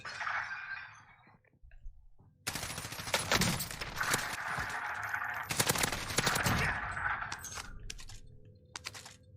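Rapid burst gunfire in an online multiplayer shooter, loud dense volleys of automatic fire with short gaps, ending in a few scattered single shots and clicks, with no talking over it.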